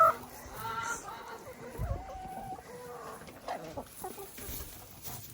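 Chickens cluck and murmur softly nearby, scattered calls overlapping against a faint background, fairly quiet throughout.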